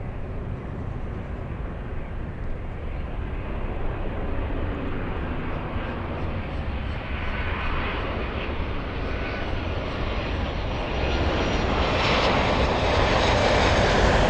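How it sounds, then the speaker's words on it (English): A Delta airliner from Austin, Texas roars steadily at a Miami airport, its broad engine rumble holding loud and close throughout and swelling slightly toward the end, with no voices. "this is the Delta flight from Austin,"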